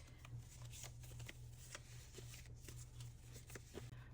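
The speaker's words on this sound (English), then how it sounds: "I'm just going to shuffle away from y'all so y'all don't try to guess which one" Tarot cards are shuffled by hand in soft, continuous riffling and sliding, close by and quiet, with no talking.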